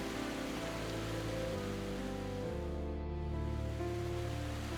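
Water cascades around a canyon at a waterfall in the Philippines, a dense, steady roar of rushing water heard close and alone, with no voices.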